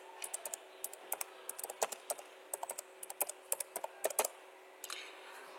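Quick bursts of key clicks on a computer keyboard, light and close, tapping in short runs with brief pauses between words, and a soft steady hum beneath.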